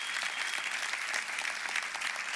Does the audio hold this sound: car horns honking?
no